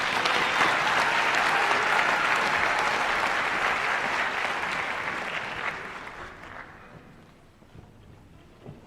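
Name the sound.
audience applause for nursing graduates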